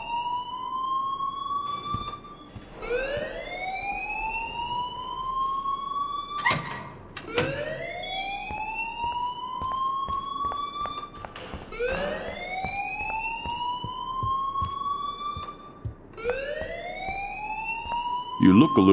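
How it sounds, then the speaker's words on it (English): An alarm blares inside the video game Life is Strange, a loud electronic tone that sweeps upward and repeats in regular rising wails, with a few sharp clatters in between. "please turn off that alarm since that's your job"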